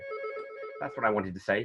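A telephone rings at an online launch event, a steady electronic ringing tone at the start that is soon overlapped by a person talking.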